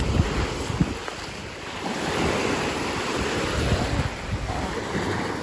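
Ocean waves rolling onto the shore at a beach resort, a continuous surging wash with wind buffeting the microphone and soft low thumps from breaking surf.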